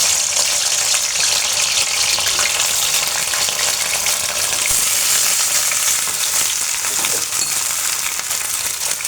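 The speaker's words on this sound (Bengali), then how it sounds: "এই তো এখানে ঢেঁড়স কেটে নিয়েছি, আলু ঢেঁড়স, আমি এখন এটাকে ভাজি করে নেব।" Sliced okra and potatoes frying in hot oil with green chillies and onion, a loud, dense, continuous sizzle close by with occasional stirring, no voices.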